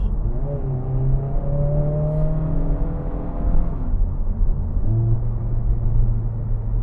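Honda Civic Type R with a 2-litre four-cylinder engine revving, a steady close rumble with rising and falling tones from a couple of throttle sweeps, heard alone without talk.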